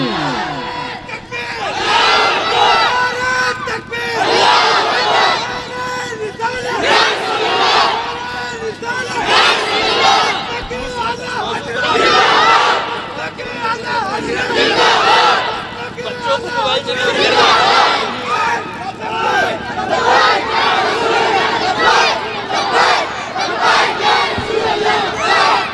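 A large crowd roars a loud, sustained collective shout of Allahu Akbar in answer to the Naara-e-Takbeer call at a religious gathering, with repeated swelling waves of massed voices filling the whole stretch.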